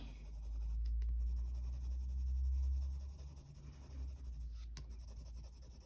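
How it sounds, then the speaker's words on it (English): A blender pencil rubs colored pencil on paper in a soft, continuous scratchy swishing, faint and close, with no talk over it. "So I'm going to get my blender pencil on this now"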